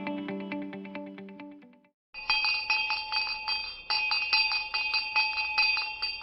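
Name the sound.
bell chime sound effect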